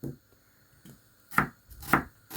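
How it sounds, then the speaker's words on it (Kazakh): Vegetables and potatoes for manti are chopped on a board with a knife: a few sparse, dull knocks, then three firmer chops in a slow, uneven rhythm, close and fairly quiet, with no talking. "Осылайша дайын көкөністерімізді турап табамызға саламыз"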